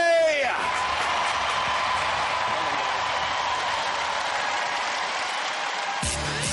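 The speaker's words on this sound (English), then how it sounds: "Big round of applause for Lambsy!" A studio audience at a robot combat show claps and cheers for the robot Lambsy in a dense, sustained wash of applause with whoops, cutting off abruptly near the end.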